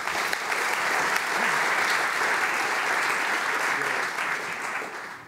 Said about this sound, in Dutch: Een applaus voor de nieuwe panelleden.